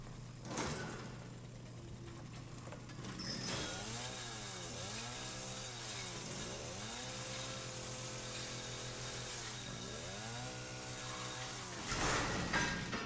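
A chainsaw in the horror game Resident Evil 7 revs steadily for several seconds, its engine pitch rising and falling in repeated sweeps over a constant low drone, loud and close, with no talking.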